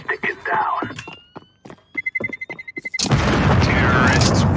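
A bomb detonates in Counter-Strike: Global Offensive on a jungle map. First come rapid beeping and clicks, then a sudden loud blast whose broad roar fills the last second and a half.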